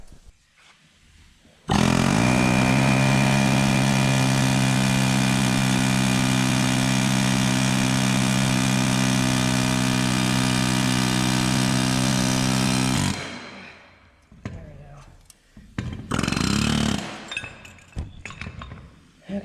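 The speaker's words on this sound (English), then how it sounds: "now we're going to go ahead and push that through using, once again, the air hammer" An air hammer pushes a part through the rear suspension of a Datsun 240Z in a loud, steady burst lasting about eleven seconds, followed by scattered clanks and handling noises.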